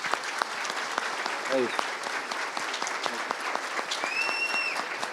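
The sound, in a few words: audience applauding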